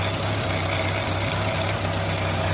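A 1986 Renault Super 5 GTL with a 1.1 litre engine idles steadily after starting, a continuous low, even running hum with a faint regular pulse, close and alone with no talk.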